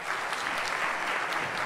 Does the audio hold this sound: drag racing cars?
no